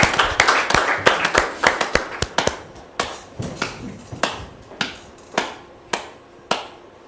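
An audience claps to welcome a guest onto a stage, giving sharp, fairly sparse hand claps in a loose rhythm that gradually spreads out and fades.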